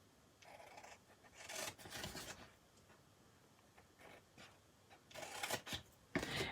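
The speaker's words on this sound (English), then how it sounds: "Now over here on the sides, I'm just going to cut up to the score line." Scissors cutting card up to a score line for a stamped paper project, a few faint, close snips and rasping strokes in short bursts separated by quiet gaps.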